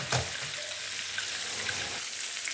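White fish fries in a covered pan under a running kitchen hood, a quiet continuous sizzle blended with broad fan hiss and a brief louder crackle near the start.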